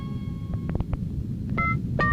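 Someone dials a telephone as a few short electronic keypad tones sound in an irregular sequence over a low background hum, with no speech.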